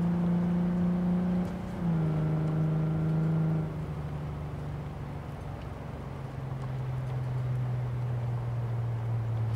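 An Archer Hella EC-D i360 car accelerates on a hill climb course, its engine holding a steady droning tone that steps down in pitch as it changes gear, loud and close throughout, with no talk.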